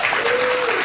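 Studio audience applause on a late-night talk show, a short steady burst of clapping with a faint voice tone gliding through it.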